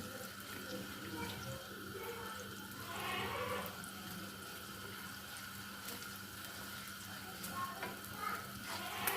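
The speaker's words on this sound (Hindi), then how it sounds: "खोए को अच्छी तरह भून लेंगे देसी घी में।" Khoya roasts in desi ghee in a pan, giving a faint, steady, continuous sizzle with a few soft stirring scrapes.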